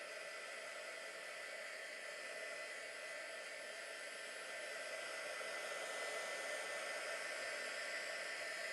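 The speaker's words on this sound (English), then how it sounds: "And then we're going to take heat gun to it." A heat gun blows steadily on a jewelry-supply craft piece, drying paint in one continuous, even hiss of hot air that grows slightly louder toward the end, with no talking.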